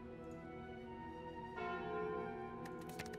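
The Calling Bell relic in Slay the Spire tolls once, a sustained church-like ring that hangs softly in the background and then fades under faint game effects.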